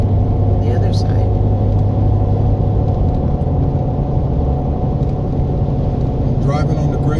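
A car cruising on the Grapevine highway, a steady loud low road rumble and engine drone that persists for the whole stretch, with faint wind and tire noise above and a voice talking over it.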